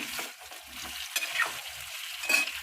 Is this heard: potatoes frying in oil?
yes